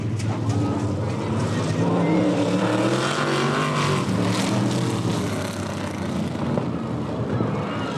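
Vintage oldtimer race cars at a 2001 IMCA exhibition race run their final lap, engines roaring loudly and continuously with a mix of nearby and distant revving. A voice talks over the engine noise.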